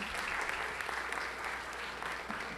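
Applause at a formal award ceremony in a legislative hall, steady clapping from a seated audience that stays fairly even and moderately distant for the whole stretch.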